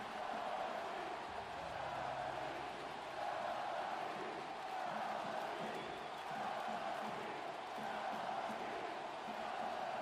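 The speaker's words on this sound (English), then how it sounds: "Looks like the crowd might be chanting to sell the team." A hockey game crowd chants steadily across a large arena, with a sustained distant roar of many voices rising and falling under a commentator's voice.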